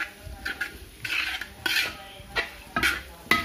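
Coconut pieces being stirred as they sauté in a pan for potti fry, with a spoon scraping the pan in repeated close strokes over a soft background sizzle, no talking.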